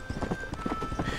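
Hooves of a galloping horse in the video game Red Dead Redemption pound out a quick, steady clip-clop, close and fairly loud throughout.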